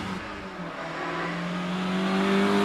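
A Porsche Boxster, a 981 with a 2.7-litre engine, launches at the Prescott hillclimb, its engine note climbing steadily in pitch and growing louder as it accelerates away.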